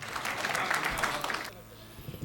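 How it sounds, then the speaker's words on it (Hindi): A short burst of clapping from an audience at a Hindi comic poetry gathering, loud and dense for about a second and a half, then fading into quiet room noise. "आप जोरदार तालियों से उमेश शाक्या जी का स्वागत करें।"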